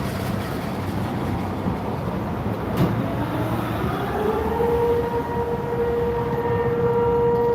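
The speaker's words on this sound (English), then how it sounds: "tornado siren in Rocky Ford means they're just testing it in the noon hour" A tornado siren under a noon-hour test in Rocky Ford, Colorado, rising into a steady wail over a constant rumble of demolition work and machinery on a town street.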